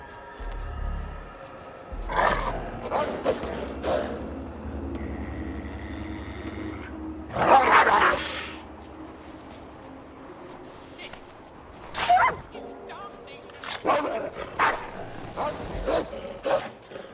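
Dogs bark in bursts in the video game Assassin's Creed 3, several sharp barks and yips scattered among gunfire-like cracks and game noise, with people talking throughout.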